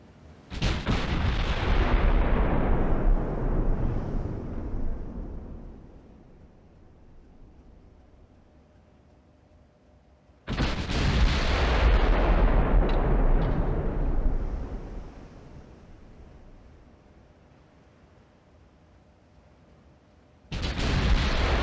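Heavy naval guns boom in the Ultimate Admiral: Dreadnoughts naval battle game: three loud, deep blasts about ten seconds apart, each rolling out into a long fading rumble, with no talking.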